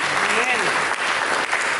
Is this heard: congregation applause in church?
yes